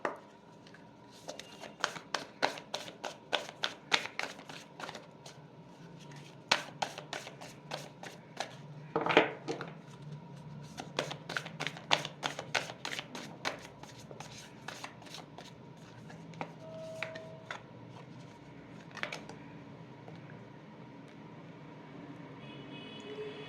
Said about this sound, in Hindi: We will pull some more cards.